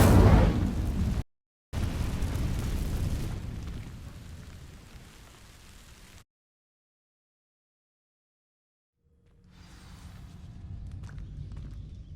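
Incendio fire spell igniting dry vines in Hogwarts Legacy, a loud whooshing burst of flame that fades over several seconds, then silence before a low ambient rumble returns.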